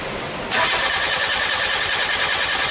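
A Nissan Sunny engine with a swapped motor cranks loudly and continuously after a short lead-in, the starter churning steadily without the engine catching, heard up close with no talking.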